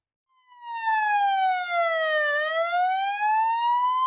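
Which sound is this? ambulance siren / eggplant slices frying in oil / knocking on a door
ambulance siren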